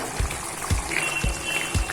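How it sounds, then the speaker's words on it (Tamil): Low bubbling pops from mutton pepper curry boiling in a pan, coming every half second or so over a steady hiss of simmering. "இப்போ நல்லா கொதி வருது"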